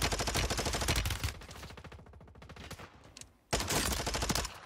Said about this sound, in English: Now we gotta stop shooting